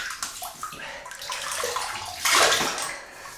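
Water running from a tap while shaving soap is rinsed off, a steady close splashing flow that swells louder near the end, with no talking.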